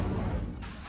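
A burst of the Incendio fire spell in the Hogwarts Legacy video game, a dense low rumbling whoosh of flame lasting under a second, loud and close, with no talking.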